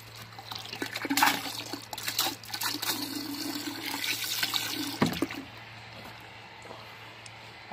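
Water spraying and splashing over a car during a quick mobile detailing wash, a steady hiss and trickle with uneven bursts as the stream moves across the body, close by with a constant low hum underneath.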